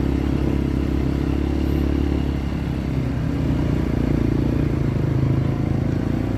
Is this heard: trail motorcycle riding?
yes